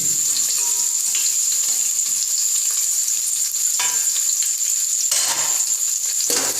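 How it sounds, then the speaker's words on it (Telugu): Onions and chillies frying in hot oil for Hyderabadi chicken curry, a steady close sizzle with a bright high hiss throughout and occasional stirring scrapes. "ఆయిల్ హీట్ అయినాక ఉల్లిపాయలు వేసుకొని మిర్చి,"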